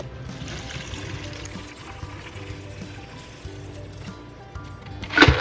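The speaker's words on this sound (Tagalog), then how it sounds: "Let's drain the water." Water drains from a container of mung beans after overnight soaking, giving a continuous pouring and trickling sound, moderately loud, that ends with a sharper splash near the close.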